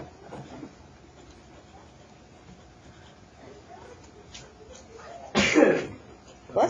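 A single loud, sharp sneeze bursts out near the end, following a stretch of quiet room noise with faint, indistinct voices.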